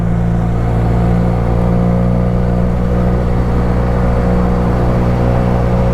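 Motorcycles on a hill road give a steady, loud, close engine drone with a constant low rumble and hum that does not let up, and there is no talk.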